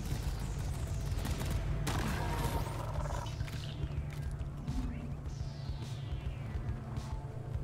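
Gunfire and sharp impacts crack through a busy Deep Rock Galactic cave fight against creatures, with one heavy blast, sweeping whooshes and scattered hits over a steady low rumble.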